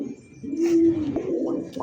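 A silver Giribaz pigeon at a breeding farm coos softly in a short, low, throaty burble, close by amid light background noise.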